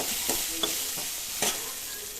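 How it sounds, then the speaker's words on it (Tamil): Cabbage sautés in a pan for a cabbage chutney, a steady close sizzle broken by a few soft stirring scrapes across a short stretch. "பெரிய பெரிய சைஸில் வெட்டி வச்சு கோஸ் போட்டு வதக்கிக்கலாம்"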